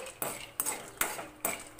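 Peanuts roasting in oil in a pan over a low flame for chutney are stirred, giving four sharp metallic scrapes and clinks at a steady, roughly half-second rhythm, close and fairly quiet, with no talking.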